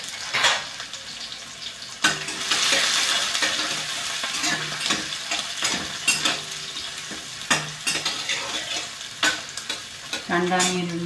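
Onion and green chili sautéing in a pan, a continuous close sizzle with repeated spoon stirs and metallic clinks against the pan.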